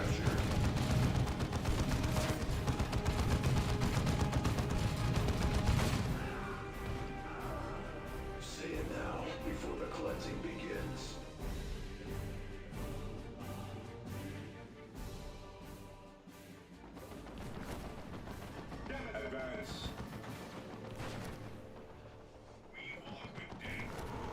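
Massed gunfire and artillery in the strategy game Dawn of War 2 as units open fire, dense crackling volleys at first, then scattered bursts and impacts over a lower background for the rest.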